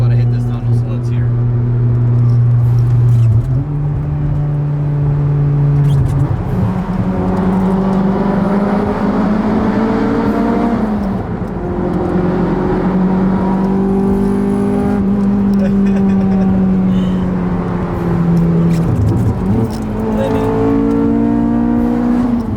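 An Acura TSX CL9 fitted with an RRC Type R intake manifold drives through a tunnel, its engine droning loud and close with rising and falling pitch as it revs and shifts, echoing off the walls for about twenty seconds.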